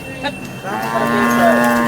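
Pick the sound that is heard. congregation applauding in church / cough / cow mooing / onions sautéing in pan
cow mooing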